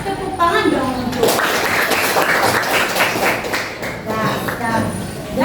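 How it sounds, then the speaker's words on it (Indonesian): Applause in a school classroom during a counseling lesson on study motivation, a burst of clapping from a group lasting a few seconds, with voices talking and calling out over and around it. "Kasih tepuk tangan dong untuk."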